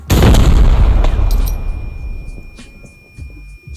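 Grenade explosion in the first-person shooter video game Arena Breakout, one loud booming blast that rolls off into a fading rumble, followed by a few scattered gunshot pops and a faint in-game tone.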